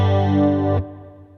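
Clean guitar chord played through reverb pre-delay on a Valeton GP200 multi-effects unit: a full, bright strum rings steadily, then cuts off sharply, leaving a softer reverb tail trailing behind.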